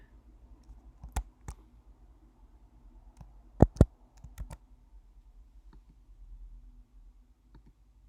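Computer mouse clicks while uploading DICOM medical study files: a few sharp, close clicks scattered across a quiet background, including a quick double click near the middle, with no talk.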